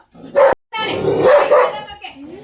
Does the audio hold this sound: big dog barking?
yes